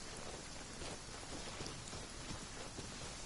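Rain falls in a video game, a constant, even wash of drops at low level with no talk over it.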